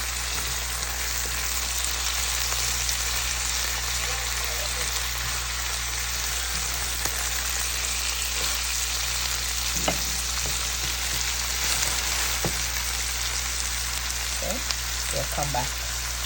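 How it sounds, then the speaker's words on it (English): Saltfish cooking with scotch bonnet pepper and vegetables in a pan, a steady close sizzle of frying that holds throughout, with a few brief clinks and stirring knocks near the end. "We're gonna let this fry up and cook up nicely with the fish"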